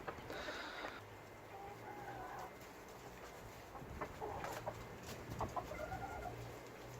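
Chickens clucking and calling in a backyard smallholding chicken run in winter, one hen among them an exchequer leghorn, with a steady mix of clucks and squawks over quiet outdoor ambience.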